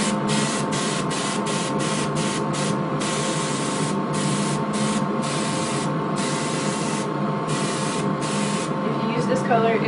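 An airbrush sprays a solid base coat of paint onto a model horse being finished as a sorrel or chestnut, a steady close hiss running the whole time with brief gaps where the spray pauses.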